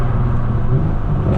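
BMW 440i (2018) with a Stage 2 BM3 tune, its exhaust rumbling loud and close on a downshift with a continuous engine drone, no pops clearly separable from the steady roar.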